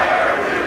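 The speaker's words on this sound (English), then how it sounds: "We have now an actual crowd chanting "Fire Hugh."" Crowd chanting at a Philadelphia Eagles sports event, a brief dense roar of many voices shouting together, loud and steady with no clear words.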